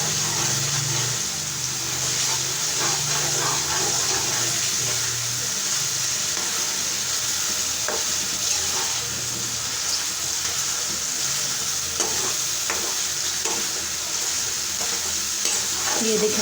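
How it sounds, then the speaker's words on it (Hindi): Spice masala for a potato and egg curry fries on a high flame, a loud, continuous close sizzle with stirring and bubbling throughout and no talking. "आज थोड़ी चूल्हे की तेज़ कर ली ताकि इसको भून लें अच्छे से मसाले को"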